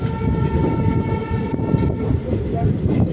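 A 15603 Guwahati–Ledo Intercity Express train running between Guwahati and Mariani Junction, its steady loud rumble and rail noise continuous throughout with faint tonal hum, no speech.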